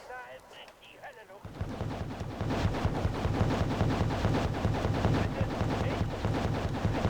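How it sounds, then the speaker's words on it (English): A rocket artillery barrage in the video game Wargame: AirLand Battle, with a rapid rolling string of launches and blasts that builds into a dense, loud roar after a brief quieter start, while a voice talks over it. "So launching a giant rocket attack."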